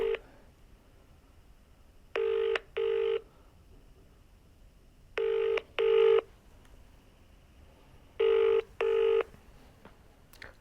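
Touch-tone telephone dialing, with three pairs of short steady beeps repeating at even intervals over a faint background hum, no voices.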